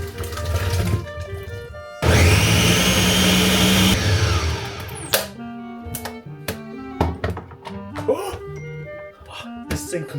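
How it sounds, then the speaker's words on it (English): A kitchen blender purees soft simmered pears in a loud, dense whir lasting about two seconds before cutting out, followed by scattered clunks and knocks, with a voice talking. "we're going to give them a really good blend"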